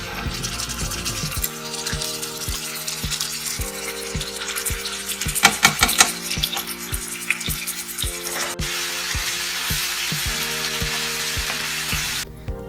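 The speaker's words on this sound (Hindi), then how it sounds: "कढ़ाई में आधा कप तेल डालें और 2 टेबलस्पून लहसुन अदरक का पेस्ट डालें।" Garlic ginger paste sizzles in hot oil in a karahi, a continuous loud frying hiss with spattering bursts and occasional stirring scrapes, no voices.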